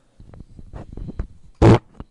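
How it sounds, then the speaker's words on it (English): A hard fart blasts out as one short, loud burst that overloads the microphone, following a stretch of soft, scattered low murmurs and rustles. "Oh, that was a hard fart."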